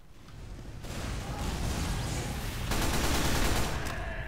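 Continuous loud automatic SMG fire from a sniper in Team Fortress 2, a dense, unbroken rattle of shots that swells slightly in the middle and keeps going throughout.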